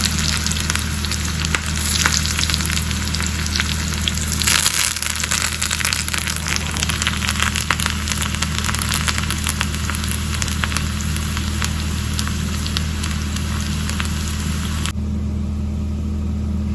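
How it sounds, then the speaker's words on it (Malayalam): Loud, constant sizzling and crackling of onion and curry leaves frying in hot oil, close by and steady throughout, with no talking. "നമുക്കൊരു അല്പം എണ്ണ മൂപ്പിച്ച് എണ്ണയും ഉള്ളിയും കറിവേപ്പിലയും ഇട്ട് മൂപ്പിക്കാം."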